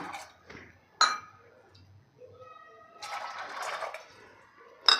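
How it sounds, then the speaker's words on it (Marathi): Water poured into a pot of rajma masala, with splashing bursts and clinks of a vessel against the pot, loud and close, in short separated gushes. "त्यानंतर आपल्याला यामध्ये घालायचं आहे दोन कप पाणी"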